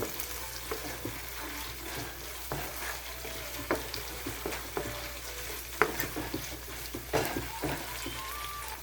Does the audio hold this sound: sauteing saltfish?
yes